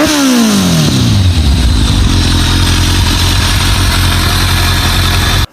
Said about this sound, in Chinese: 给大家放一下这个发动机声音